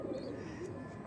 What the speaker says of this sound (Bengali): এই যে কালশিয়া পায়রাটা